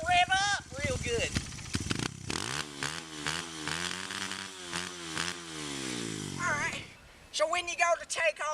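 A used motocross bike engine revs up repeatedly, rising and falling in pitch with loud, close bursts, beginning and ending with short stretches of talking.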